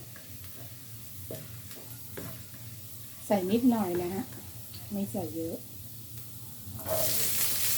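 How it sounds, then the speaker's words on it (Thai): Fresh and pickled garlic frying in a pan, a continuous soft sizzle with light stirring scrapes, while someone talks over it and a louder burst of sizzle comes at the end. "เราจะเจียวกระเทียมสดให้หอมก่อน แล้วก็ใส่กระเทียมดอง"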